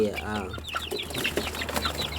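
One-month-old domestic chickens cheep and cluck close by in cold, windy weather, a busy scatter of short chirps over a low background rumble.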